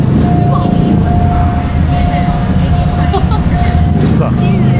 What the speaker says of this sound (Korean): 여러분 지금 저기 기차 지나갑니다.